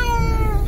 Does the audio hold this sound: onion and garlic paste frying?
no